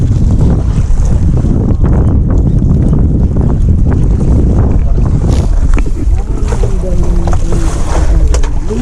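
Rough sea waves slap against a small fishing boat off Tanza, Naic, Cavite while strong wind buffets the microphone, a loud continuous wash and rumble throughout.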